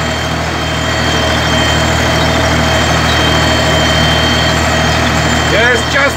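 A vintage tractor engine runs steadily at a loud, low idle-like drone while sowing winter grain, with a constant rumble and hum throughout and a brief faint squeak near the end.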